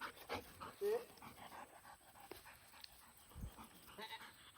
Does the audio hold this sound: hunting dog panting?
yes